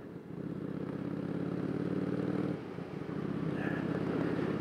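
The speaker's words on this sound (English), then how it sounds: "The exhaust note is a little bit louder than most bikes." A Kawasaki VN cruiser motorcycle exhaust rumbles low and steady from close by, briefly dipping before picking back up, with no speech.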